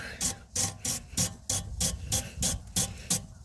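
A wire brush scrubs back and forth around a track rod end nut on a Hyundai, about a dozen quick, evenly spaced rasping strokes close to the microphone.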